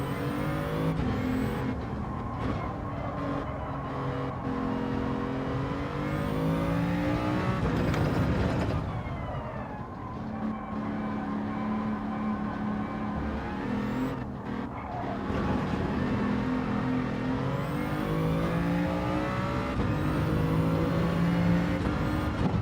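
Racing car engine in a BMW Vision Gran Turismo lobby race, droning and shifting pitch through corners with a brief dip near the middle, loud and continuous throughout.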